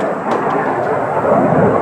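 Blue Angels jet airplanes roar overhead during an air show, a steady, broad, rumbling jet wash that stays loud and constant throughout, with no voices.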